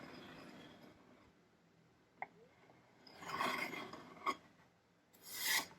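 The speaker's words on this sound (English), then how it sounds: "Just use the corner of the tool, just slightly scrape along the corner" Small hand tool scraping along the inside corner of a wooden tissue box lid, a few short, dry rasping strokes, close and quiet, with the last two louder and brisker.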